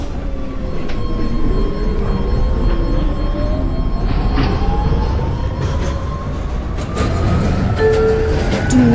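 An airport-bound Y express train on the JT-22 line rumbles loudly and continuously from inside the car. Rising and falling motor whines sweep over the steady rail noise.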